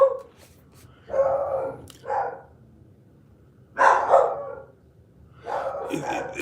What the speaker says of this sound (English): Oh, I don't care. I like them barking.